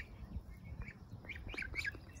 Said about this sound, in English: Sleepy chirps?